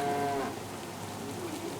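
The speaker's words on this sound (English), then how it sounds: "It sounds like the cows are enjoying it." A single video game cow in Farming Simulator 25 moos briefly at the start, a drawn-out low call, followed by quiet background noise.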